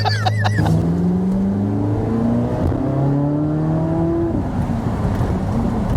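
A Corvette engine drones loudly and continuously, its pitch climbing and shifting through gear-like steps as it revs, with a deep rumbling undertone.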